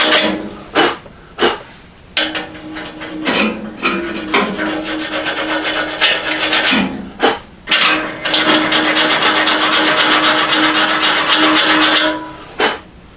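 A wire brush rasps against the steel frame cover of a Model A hot rod shop truck: loud, close scrubbing strokes in short bursts, then a long sustained run of scraping.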